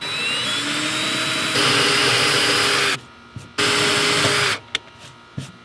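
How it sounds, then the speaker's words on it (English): A power drill bores pre-drilled bolt holes into a restored jon boat, a loud steady whine in two long runs with a brief stop between, then short bursts and clicks at the end. "take our drill bit, get our holes pre-drilled"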